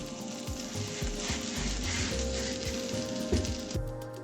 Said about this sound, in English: We can fry it in just 2 to 3 teaspoons of oil and get amazing shamis.